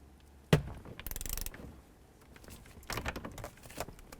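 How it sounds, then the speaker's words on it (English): A ratchet tightens a steering wheel bolt on a 2000-2006 Chevrolet Tahoe, giving quiet bursts of rapid clicking with a sharp knock near the start, heard close up in an otherwise quiet space with no talk. "Now we'll make sure that it's properly torqued to 29 foot-pounds."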